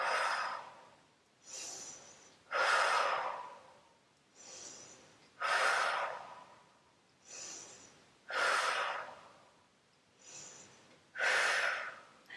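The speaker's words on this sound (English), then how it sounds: "Inhale, exhale" Deep, rhythmic breathing during a yoga block exercise, with about eight slow, close inhales and exhales alternating in a steady cycle with brief pauses between them.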